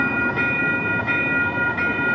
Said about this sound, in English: So it looks like we'll get some train action.